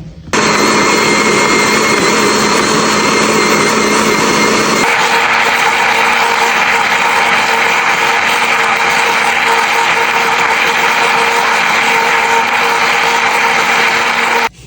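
A small kitchen blender whirs loudly and continuously while mixing milk and other ingredients for a simple homemade pudding, its motor pitch shifting to a rougher, higher drone about five seconds in before cutting off at the end.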